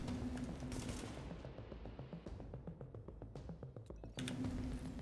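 Automatic gunfire in the shooter The Division, rapid bursts of rattling shots with a short pause in the middle before heavy firing resumes, fairly close but recorded quietly.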